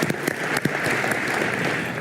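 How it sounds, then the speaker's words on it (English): A crowd at the Sony CES 2025 press conference claps, a brief steady wash of applause with a few sharper hand claps standing out near the start, with no talking over it. "I'll clap."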